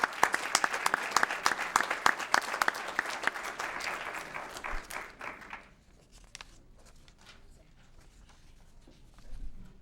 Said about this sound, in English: I think we ought to give Sue Bergman a big round of applause.